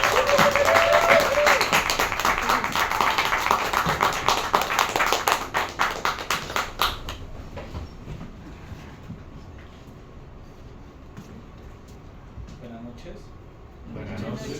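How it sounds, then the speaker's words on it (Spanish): A storytelling festival audience claps loudly for a performer, dense applause for about seven seconds, then it stops and quieter room sound with faint talk follows. "quiero que reciban por favor con un fuerte, fortísimo aplauso a Sergio Muñoz."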